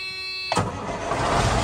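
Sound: Detroit Series 60 12.7 diesel truck engine starting

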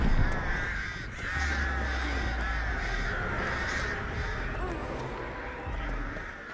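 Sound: crows cawing in Dead by Daylight video game

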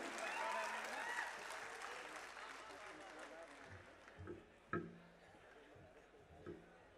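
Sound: audience applause at a poetry gathering

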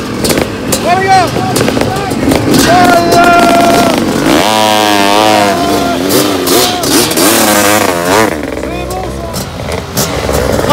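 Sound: vintage motocross motorcycle engine revving

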